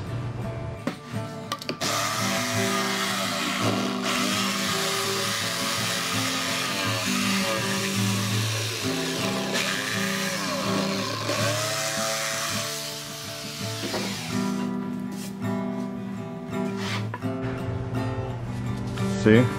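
A wood router cuts handle openings in a theater cube panel, a loud, continuous, close whine that holds steady for the whole stretch and shifts slightly in pitch as the bit moves through the wood.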